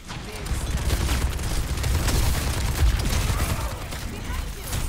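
Rapid, continuous gunfire from both of Mauga's guns on the Queen Street map in Overwatch 2, a dense chattering barrage with booming low end that runs steadily for several seconds.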